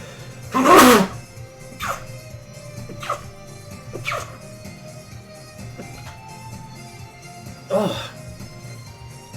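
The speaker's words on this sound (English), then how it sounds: "I gotta sneeze." A single loud, close sneeze bursts out near the start, with fainter knocks, clicks and a sustained musical hum from a guitar and pedal setup afterwards, plus a second softer burst near the end.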